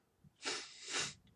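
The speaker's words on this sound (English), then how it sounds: "I was sneezing" A single loud sneeze with a sharp burst of breath, close to the microphone, followed by a brief trailing exhale; no talking.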